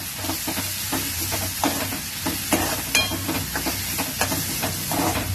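Small karandi shrimp sautéing with onions in an old cooking vessel, a dense steady sizzle with frequent sharp clinks and scrapes of stirring, close and fairly loud.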